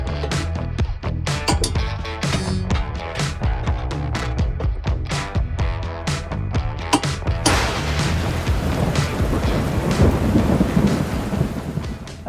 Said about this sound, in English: Then it started raining, and it's been raining all day.